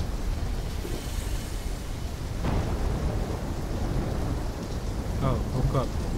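Thunderstorm from Call of Duty Black Ops 3, with steady heavy rain and a low thunder rumble throughout, a brief louder crack midway and faint sounds of voices or activity near the end.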